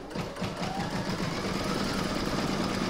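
An embroidery machine stitches a quilting round on an in-the-hoop mandala placemat, a steady close, loud mechanical whirring and rapid needle clatter running continuously without pause.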